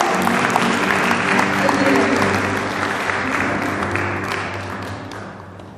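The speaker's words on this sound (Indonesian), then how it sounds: "Kita berikan tepuk tangan yang meriah." Sustained applause from a crowd, steady and fairly loud throughout, easing off slightly toward the end.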